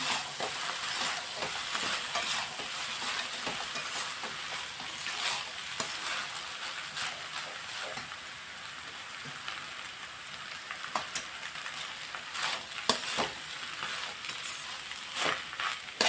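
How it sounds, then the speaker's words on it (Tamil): Cooked rice being stirred into chicken fried rice in a hot pan, a continuous crackling sizzle broken by repeated scrapes and taps of a spatula, close and steady, with nobody talking. "இதை நல்லா மிக்ஸ் பண்ணி விட்டுக்கலாம்."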